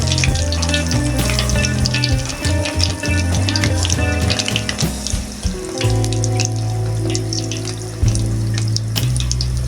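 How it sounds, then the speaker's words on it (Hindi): Chicken pakora frying in hot oil, a continuous dense crackle and hiss close by, with some clatter and a low hum underneath, no talk. "इसी तरह दोबारा से फिर बाकी का चिकन फ्राई कर लेंगे।"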